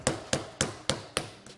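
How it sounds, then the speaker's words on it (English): Rolling pin pounding tough vegan dough on a counter, six sharp evenly spaced thuds about a quarter second apart, close and loud, with no talking. "I'm using a rolling pin to hammer it out because it's really tough"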